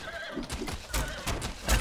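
A horse in the video game The Bard's Tale gives a short, loud whinny with a rising-and-falling cry, accompanied by a few hoof clops.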